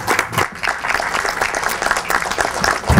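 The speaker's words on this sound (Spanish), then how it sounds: "Un aplauso para los vecinos" A crowd applauds steadily for about three seconds at a civil defense committee event, dense clapping that holds its loudness throughout, with faint voices mixed in.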